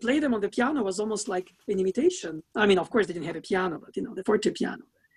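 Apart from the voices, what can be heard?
None of the usual background noises is heard.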